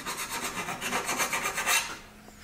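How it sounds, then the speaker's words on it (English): A hand file rasps burrs off the metal underside of a mower in rapid, even back-and-forth strokes, close and fairly loud, then stops near the end, with no voices. "I'll just take a file. File that off a little bit."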